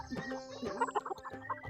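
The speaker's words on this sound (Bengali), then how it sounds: "সব মুরগি" Hens on a large poultry farm in Saudi Arabia keep up a lively run of clucks and short calls from many birds, faint and layered, with no talk over them.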